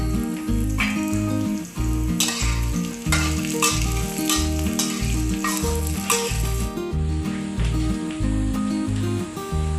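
Chinese sausage stir-frying in a pan for banquet-style fried rice, a steady loud sizzle with occasional stirring scrapes, running throughout beneath rhythmic background music.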